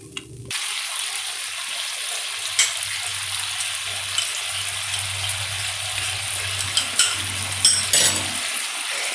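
Water poured into a hot pan of chicken Manchurian, with a sharp sizzle that settles into a steady bubbling hiss, then occasional clinks of a spoon against the pan over the next several seconds.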